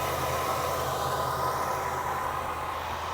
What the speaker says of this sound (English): It's idling very good.